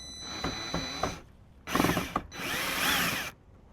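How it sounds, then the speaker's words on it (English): A power drill whirs in three bursts, revving and ratcheting as it drives screws into a Subaru WRX, with short pauses between runs. "let's just drill this in."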